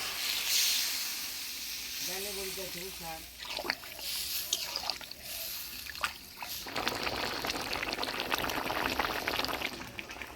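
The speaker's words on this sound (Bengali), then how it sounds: "আলু ভালো করে মজায় নিলাম এবার ঝোল দিয়ে দেবো" Broth is poured into a pot of fish curry with malabar spinach and potatoes, a liquid splash and steamy hiss building toward the end after a stretch where someone talks.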